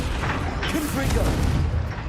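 A fiery Confringo spell blast in the wizarding game Hogwarts Legacy, a short booming burst that erupts against steady battle noise and swells briefly before fading.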